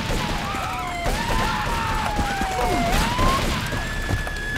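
Rapid gunfire crackles through a shootout in Grand Theft Auto III, with bursts of shots over a busy game soundscape, sirens wailing in the background throughout.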